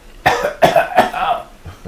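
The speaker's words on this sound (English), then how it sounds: "I gave a sly and a sarcastic cough." Three sharp coughs in quick succession, close and loud, followed by a softer throat sound.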